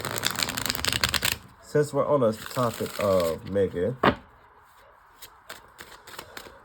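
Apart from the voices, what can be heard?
shuffling tarot cards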